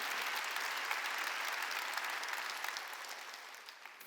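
A church congregation at a Sunday worship service breaks into steady applause, a dense continuous wash of clapping that slowly fades toward the end, with no speech over it.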